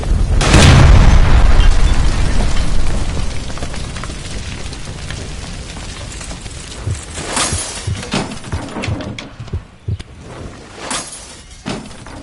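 A gas line blown up by gunfire in the video game Disco Ellie erupts as a loud, deep boom at the start, then rumbles and crackles as debris settles with scattered smaller pops.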